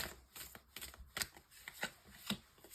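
Tarot cards shuffled and drawn for a nine-card spread, a quiet run of irregular riffling flicks and soft slaps with no talk.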